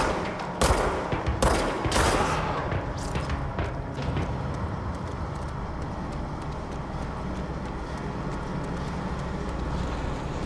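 Video game gunfire, a rapid burst of sharp loud shots at the start, then scattered fainter shots over a dense, continuous rumble of background noise.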